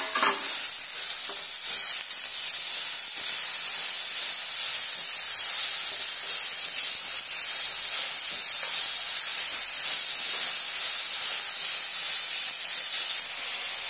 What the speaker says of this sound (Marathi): तर आपण आता हे टोमॅटो एकदम मऊ होईपर्यंत फ्राय करायचे.